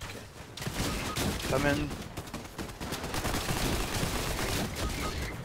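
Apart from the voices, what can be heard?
gunfire from the video game Fortnite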